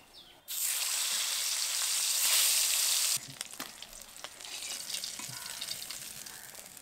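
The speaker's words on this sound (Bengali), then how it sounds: "মাছগুলো ভাজা হয়ে গেছে, এবার তুলে নেব" Snakehead (shol) fish pieces frying in hot oil, a loud continuous sizzle that cuts off abruptly and then continues as quieter crackling with scattered clicks of a utensil turning the fish.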